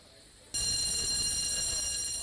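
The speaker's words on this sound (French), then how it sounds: "Lorsque retentit la sonnerie dans la caserne, plus le temps de traîner les pas." A fire station alarm bell bursts into loud continuous ringing after a brief quiet start, a shrill sustained metallic clang that carries on to the end.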